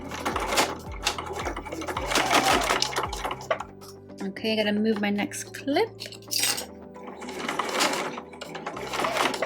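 A sewing machine stitches a straight seam with back stitches at the start and stop on a scrappy zippered dopp bag, giving rapid mechanical bursts that start and stop, close by, while a person talks over it.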